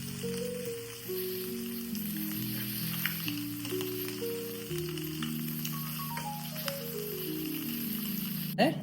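Prawns frying in a pan make a steady sizzle throughout, with music playing over the top and no talking.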